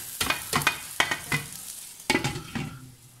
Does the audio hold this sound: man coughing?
no